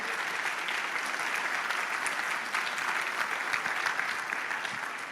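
A church congregation claps during a sermon, a steady even round of applause, moderately distant and with no talking over it.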